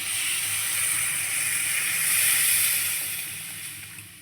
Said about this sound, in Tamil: புளி தண்ணி ஊற்றுறேன்.